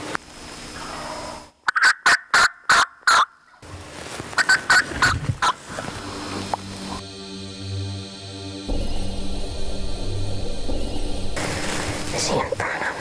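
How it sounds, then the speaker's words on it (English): A wild turkey lets out a burst of rapid gobbling, then another shorter series, followed by whispered talk and a low droning engine-like hum. "There he goes, he just gobbled."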